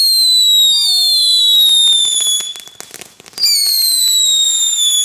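Fireworks set off in a street in Delft, a series of whistling rockets with rising and falling shrieks and scattered crackling pops, loud and close, nearly continuous for several seconds.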